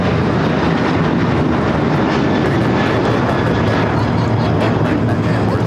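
An American Airlines Boeing 737-800 taking off at LAX bound for Phoenix, its jet engines a loud, steady, broadband roar that stays close and constant throughout.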